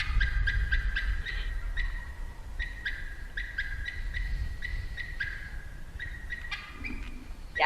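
A series of short, high yelping calls from a wild turkey, repeated in quick clusters over a quiet outdoor background with low rumble.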